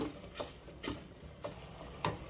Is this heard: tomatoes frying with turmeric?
yes